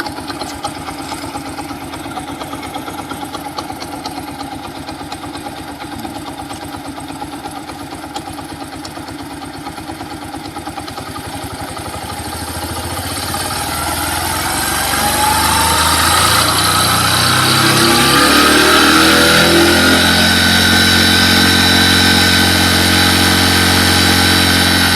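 A Bajaj Platina 100 motorcycle engine idles steadily at around 1000 RPM, a close, even putter that then rises and grows louder as the revs climb toward the end.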